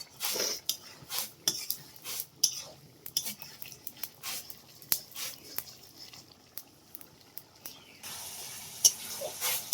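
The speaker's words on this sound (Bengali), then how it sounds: "এবার ভালো করে কষিয়ে নেওয়া হচ্ছে।" Potatoes and spices with Kashmiri chilli sautéing in a pan for snail curry, with repeated clinks and scrapes of a utensil against the pan over a soft background hiss.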